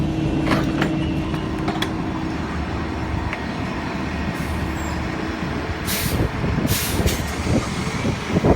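City bus air brakes hiss in two loud bursts near the end of a steady low engine and traffic rumble on a street outside a sidewalk sale, with no talking.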